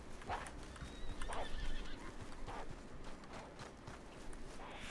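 A horse in the Red Dead Redemption 2 video game gives a short neigh, and its hooves clip-clop in scattered steps close by. The sounds are fairly quiet against a low background.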